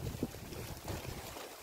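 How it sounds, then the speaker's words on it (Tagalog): Strong wind gusting across open rice paddies in the middle of a farm field, a steady broadband roar buffeting the microphone with low rumbling surges throughout, loud and close. "Grabe ang lakas ng hangin."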